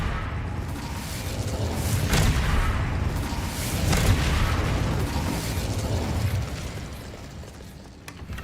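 An Incendio fire spell is cast in Hogwarts Legacy: a rumbling, roaring burst of flame with sharp pops near two and four seconds that swells and then fades away, with no talking.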